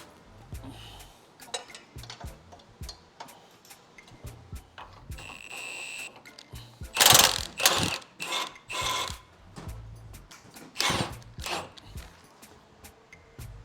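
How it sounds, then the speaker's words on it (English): Size 18 wrench turning a motor mount bolt on a 2015 GMC Acadia, with close, irregular metallic ratcheting clicks and scrapes that rise into louder bursts in the second half, and no talking. "There's no access with the gun, so we're just gonna use a wrench, size 18 again."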